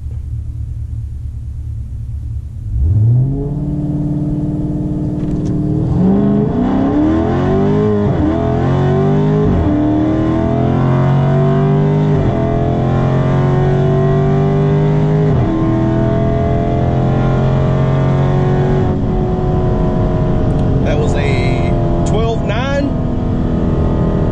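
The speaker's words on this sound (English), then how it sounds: "we're gonna try this with launch control and me manually shifting" A Ford Mustang 5.0 launching hard with launch control and manual shifting: a V8 roar climbs in pitch, drops at each gear change, then climbs again, loud and close from inside the car.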